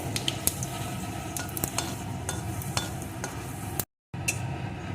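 Dried red chilli and panch phoron spluttering in hot mustard oil for a mango chutney, a steady close sizzle with sharp crackling pops and occasional utensil clinks, briefly cut to silence near the end.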